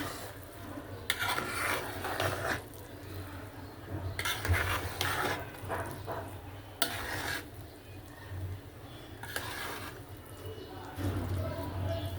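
A spoon scrapes and stirs biryani in a pot before it is sealed to steam, with soft repeated scraping and clinking under a steady low kitchen hum while a voice speaks at times.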